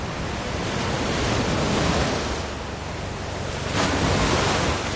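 Ocean surf at Scarborough beach, Australia, a broad continuous wash of breaking waves that swells and eases, loud and close, with no voices.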